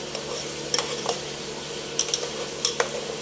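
Garlic sizzling in melted butter in a pan on the way to golden brown, a steady soft fry under a few sharp clinks and scrapes of a utensil stirring against the pan.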